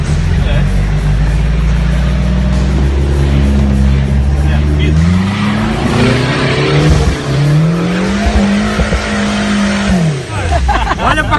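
Off-road car climbing a dirt hill at an off-road ride event, engine roaring loud and close as it revs and shifts pitch, with tires spinning and slipping, and brief voices near the end.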